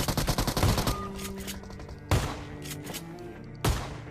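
Gunfire in the PUBG Mobile game on the Erangel map opens with a rapid automatic burst, followed by two single sharp shots a second or so apart, each trailing into a short echo.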